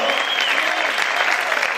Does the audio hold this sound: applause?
yes